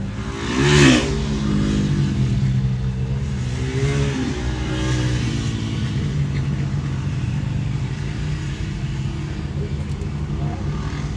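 Youth UTV 170 race vehicles buzz around a dirt track at the Buffalo Chip in Sturgis, South Dakota, with a steady mid-pitched engine drone and revving rising and falling as they pass, one louder swell near the start.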